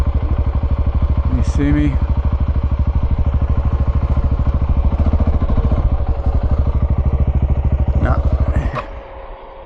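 A motorbike engine runs close and loud in a steady, rapid pulsing drone while it is ridden, with a rider speaking briefly, before the engine noise drops away abruptly near the end.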